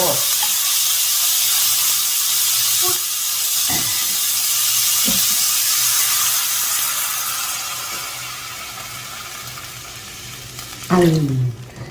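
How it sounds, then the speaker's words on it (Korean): Gochujang stew ingredients stir-fried in a pan give a steady loud sizzle and hiss, with a few stirring knocks and a clatter near the end. "이제 이렇게 반 정도 붓고 이제 볶아주면"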